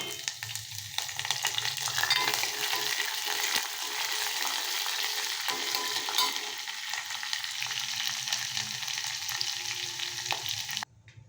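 Curry leaves and grated raw mango frying in a pan for mango chitranna, a continuous close crackling sizzle with faint stirring, steady throughout and cut off sharply near the end.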